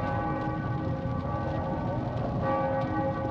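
Church bells ring in The Witcher 2, a dense sustained wash of overlapping tolls with a steady metallic drone, loud and continuous, with no break through the whole stretch.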